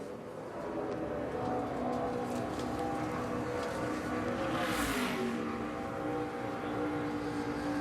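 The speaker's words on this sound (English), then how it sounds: "A couple of cars rolling down pit road, but just to get into position." Race cars rolling slowly down pit road during NASCAR Kobalt 400 qualifying, a steady low engine drone with a brief louder whoosh of a passing car midway, heard from a distance with no voices.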